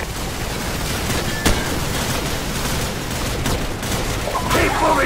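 Gunfire and explosions in the Call of Duty 4: Modern Warfare video game, a steady dense battle din with a sharp loud shot near the middle and bursts toward the end, with shouted voices mixed in.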